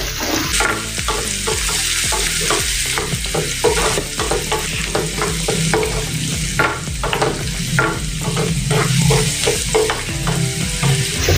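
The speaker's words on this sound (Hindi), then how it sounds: "अब हम प्याज डालेंगे, जो बारीक कटा हुआ था प्याज वो इसमें डाल देंगे।" Finely chopped onions sizzle and crackle steadily in a hot pan while a spoon scrapes and stirs them in a busy, repeated rhythm, close up and with no voices.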